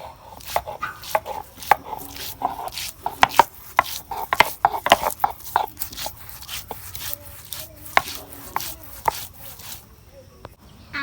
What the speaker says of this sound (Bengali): আদা রসুন আমি এখন শিল্পাটার মধ্যে বাইটা নিতেছি